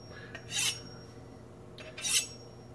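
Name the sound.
honing a slicing knife on a sharpening steel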